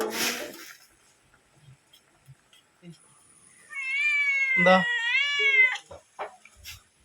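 A person says a short word, then after a pause a cat gives a long, drawn-out meow close by, followed by a few soft rustles.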